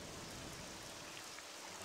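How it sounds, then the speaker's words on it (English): Steady rain in the video game Morrowind, a constant soft hiss of drops falling in an outdoor game setting, continuous with no talking. "go under the cover of the mushrooms because it's raining"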